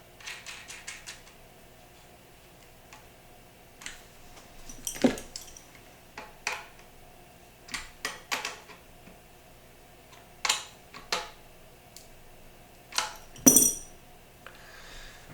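A metal washer and nut are fitted by hand while building a homemade 12-volt battery box from an ammo can, giving scattered sharp metallic clicks and clinks, close and quiet, spaced irregularly with longer gaps.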